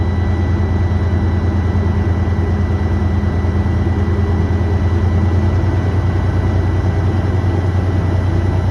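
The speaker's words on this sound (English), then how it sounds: "Rev yourself up to about 1200 and build your air pressure." A truck engine holds a steady, low droning rev to build air brake pressure during a CDL in-cab and air brake test, continuous and even with no talk.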